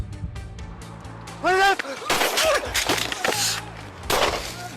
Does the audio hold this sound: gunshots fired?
yes